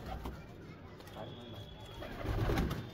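A flock of about 300 pigeons coo softly in a low murmuring chorus, with a voice talking over them and faint background noise.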